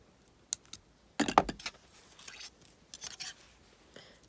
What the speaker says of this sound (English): So now I'm going to cut that wire